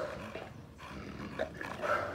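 Two dogs fight as a male is bitten by a female in heat, with close, continuous growling and snarling under rough background noise.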